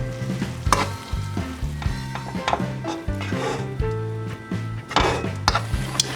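Cold instant rice being stir-fried for kimchi fried rice in a pan, a steady sizzle with repeated scraping and stirring strokes under a bed of background music.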